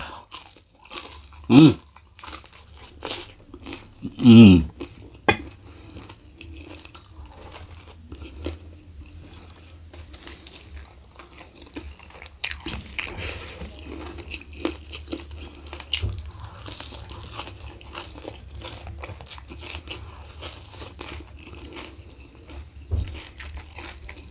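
Spicy rica-rica rice field snake meat being chewed with its bones, close crunching and biting bursts early, then steady wet chewing and small crunches, with no talk.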